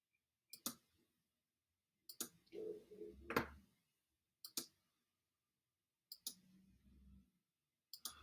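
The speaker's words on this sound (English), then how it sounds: "Click on the points around the outside first." Computer mouse clicking on points, sharp isolated clicks spaced a second or two apart with a few quick double clicks and faint handling noise between, close and quiet.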